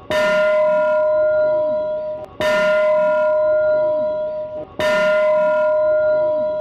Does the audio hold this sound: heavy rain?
no